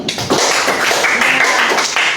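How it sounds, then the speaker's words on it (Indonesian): A class claps for a student's good question, a quick, close burst of overlapping hand claps and taps that fills the short moment. "Tepuk tangan dulu."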